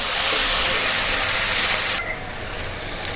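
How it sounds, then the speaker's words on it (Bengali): Spices sizzle in hot oil for a home-cooked beef curry: a loud, dense frying hiss fills the first two seconds, then drops to a quieter, steady crackle. "এখন এই সব মশলাগুলো একটু তেলে ভেজে নিব।"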